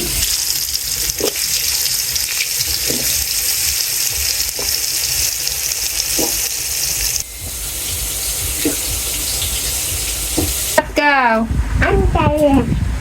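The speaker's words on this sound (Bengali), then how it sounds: "প্রথমে পটলের বড়া করা হবে। তেল দিয়ে দিছ" Pointed gourd fritters frying in hot oil, a loud steady sizzle that fills the whole stretch, with a few clinks and a voice breaking in near the end.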